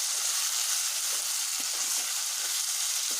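Potatoes fry in a pan over medium-low heat with a steady, dense sizzle, close and continuous, with a few soft stirring scrapes.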